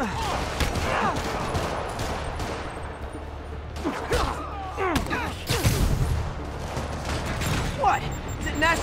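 Rapid gunfire from a Marvel's Spider-Man game fight crackles through a busy battle mix, with bursts, mechanical clatter and voices shouting over the action.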